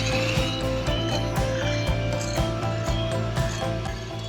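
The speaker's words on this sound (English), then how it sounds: "Beat it on high speed until it's frothy." Electric mixer on high speed beating egg whites with vinegar, a steady whirring motor with a rapid rhythmic rattle of beaters against the bowl, close and continuous.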